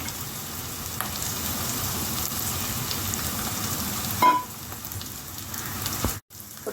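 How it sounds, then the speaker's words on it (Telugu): Coconut pieces dropped into onions frying in a pan give a steady, close, dense sizzle that runs unbroken for several seconds, with a brief louder crackle midway and a short drop out near the end. "ఇప్పుడు కోసి పెట్టుకున్న కొబ్బరి ముక్కలు వేస్తున్నాను"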